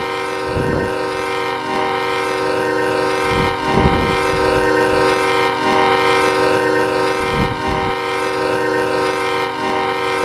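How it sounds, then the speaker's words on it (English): A BNSF train horn in a Roblox train game blares continuously at a crossing, loud and steady with layered tones, over the rumble of the passing train and a few low thumps. "the train horn is gonna be louder than my microphone"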